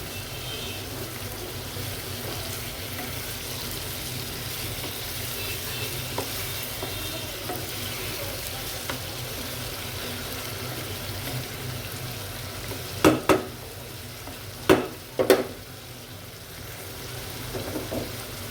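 Spiced zucchini pieces fry in a pan after eggs, with a steady moderate sizzle and a few sharp utensil knocks and scrapes near the end as the vegetables are stirred.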